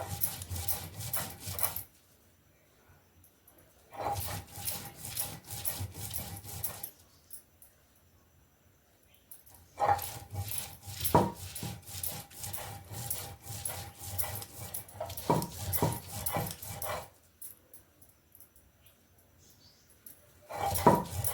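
Washed mint leaves ground finely on a stone grinding slab (silbatta) in a mountain village home give rhythmic rasping, rubbing strokes in bursts separated by short quiet gaps, close and moderately loud.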